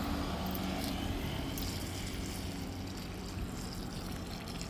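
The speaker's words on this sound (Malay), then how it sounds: "Kita beladong air di pokok dia, di bumi dia." Water poured over okra plants growing in the ground, a steady close trickle and splash running continuously without a break, with a faint rumble underneath and no voices.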